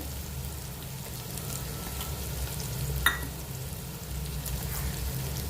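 Ground spices, including coriander powder, sizzle in ginger-garlic paste in a pan for egg biryani, giving a steady close frying hiss with one brief sharp clink partway through.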